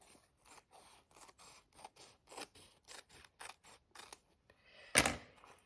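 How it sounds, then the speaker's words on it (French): Scissors cut through folded fabric in a steady run of crisp snips, close and quiet, ending with a louder final scrape of the blades. "puisqu'on va couper au milieu"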